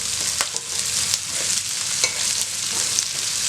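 Carrots and beans fried with onions in a pan, a continuous loud close sizzle with intermittent spatula scrapes and stirs, no voices present.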